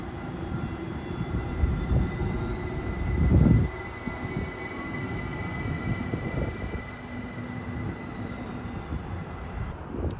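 A DART Silver Line commuter train rumbles through CityLine Bush Station, with a steady rolling drone, faint squeals and thumps of wheels over track, and a brief louder surge midway.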